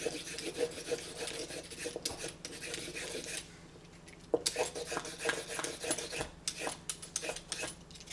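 Steady rhythmic scraping of a peeler against carrots, repeated strokes close up, with a brief quieter pause midway before the rasping resumes.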